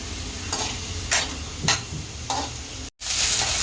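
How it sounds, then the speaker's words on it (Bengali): Chopped onion fries in a pan with a loud, steady sizzle, broken by a stirring scrape about every half second and a brief dropout near the end. "এখন পেঁয়াজ কুচি দিয়ে দিল, পেঁয়াজটা একটু লাল লাল করে ভেজে নেব।"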